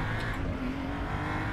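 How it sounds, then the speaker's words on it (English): A Mercedes AMG race car in the RaceRoom racing game roars steadily at speed, a dense, continuous engine drone with a rasping edge, close and sustained without break. "the AMG Mercedes sounds fantastic, like an old Spitfire plane"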